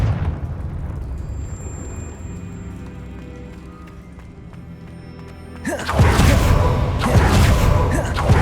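A Confringo fire spell erupts into a blast in Hogwarts Legacy: a quiet, low ambient rumble gives way to a sudden loud explosion that keeps roaring and crackling to the end.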